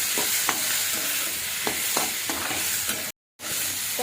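Tomato with garam masala and cashews sautéed in a pan, a loud steady sizzle with rhythmic spatula scrapes every half second or so, close up, broken by a brief cut to silence near the end.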